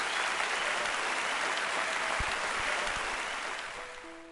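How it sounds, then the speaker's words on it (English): A large crowd applauds in a dense, steady wash of clapping that gradually fades toward the end. "There was a huge wave of applause."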